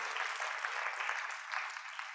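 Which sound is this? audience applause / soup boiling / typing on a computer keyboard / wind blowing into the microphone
audience applause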